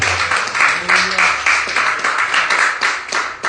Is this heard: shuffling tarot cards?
no